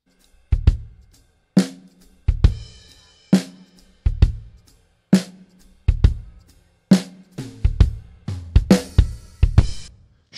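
A drum kit plays kick and snare hits together in a steady, loud pattern during mixing, with deep thumps under sharp cracks and some cymbal wash near the end.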